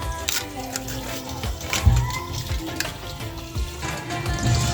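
Cut cassava pieces being washed in a dish of water, with steady sloshing and splashing, light knocks of the pieces against the dish and occasional louder splashes throughout.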